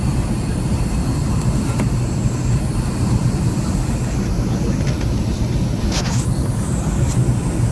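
Steady, loud engine drone inside a small airplane flying over jungle between La Paz, Trinidad and Riberalta, a continuous low roar filling the whole stretch with faint brief rattles and no voices.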